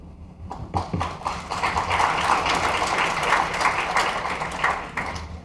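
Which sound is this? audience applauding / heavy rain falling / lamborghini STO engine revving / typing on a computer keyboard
audience applauding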